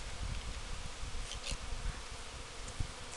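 Honey bees swarm during the installation of a top bar hive, a dense, continuous buzzing drone from many insects close by, with occasional individual bees passing nearer, and no voices.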